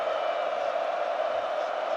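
Dense, steady roar of a large football crowd at the 2022 FA Cup final between Chelsea and Liverpool during the penalty shootout, a continuous broad wash of massed voices without distinct peaks.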